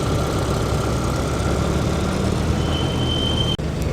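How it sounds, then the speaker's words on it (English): A Triumph Vitesse Saloon's six-cylinder engine runs steadily at a classic car show, a loud, continuous, even hum close by, with no talk over it. "Wonderful 6-cylinder sounds emanating from under that bonnet."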